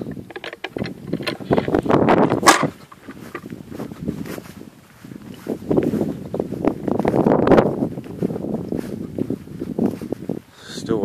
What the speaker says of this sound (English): you can see we got some nice wind today